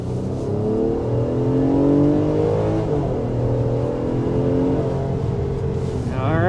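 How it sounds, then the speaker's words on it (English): A Nissan Pathfinder V6 engine revs up through rising gears while accelerating, its throaty exhaust climbing in pitch in steady sweeps, fairly close and loud. "This is accompanied by refined, throaty exhaust."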